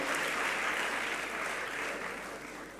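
A room of people applauds an acting legal director of legal services, with steady sustained clapping that holds at an even level and tapers slightly toward the end, with no voices over it.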